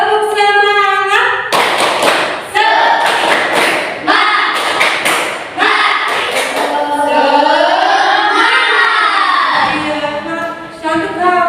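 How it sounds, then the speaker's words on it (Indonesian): Classroom of students performing a rhythmic clapping chant, sharp grouped claps in a patterned beat alternating with voices chanting together, loud and close, then ending in drawn-out sung voices. "Coba tepuk semangat dulu ya. Tepuk semangat."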